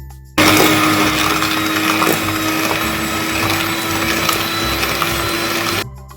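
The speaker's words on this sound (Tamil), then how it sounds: "இப்போ இதை நான் எலக்ட்ரிக் பீட்டர் வச்சு நல்லா பிளெண்ட் பண்ண போகிறேன்." Electric beater whirring steadily through cookie batter flavoured with vanilla essence, a loud continuous motor drone with rattling texture that starts abruptly and cuts off near the end, no voices.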